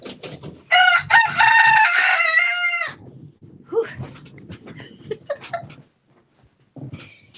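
A rooster crows once, loud and close, its long cock-a-doodle-doo followed by softer clucks and scattered farmyard noises.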